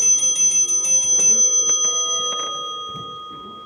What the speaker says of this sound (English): When the time for closing bell rang in the public library, Alexander Bonaparte Cust started, picked up